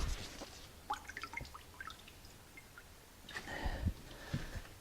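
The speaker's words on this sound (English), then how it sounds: "And then wring it out." A grout sponge wrung out over a bucket of water, a scattered run of light drips and splashes followed by a fuller trickling squeeze of water pouring back in, close and quiet.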